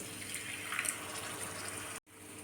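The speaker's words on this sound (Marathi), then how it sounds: "परत थोडंसं पाणी घालूया आपण यामध्ये" Water poured into frying onion masala in a pan while making tawa egg masala, a continuous splashing hiss lasting about two seconds before cutting off abruptly, close-up and moderately quiet.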